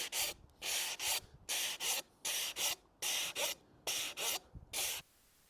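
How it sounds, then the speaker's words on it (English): A 200 grit sanding block rubs back and forth across floor tile in a bathroom renovation, making close, crisp scraping strokes in quick pairs with short pauses between them, and no voices. "Now, 200 grit sanding block."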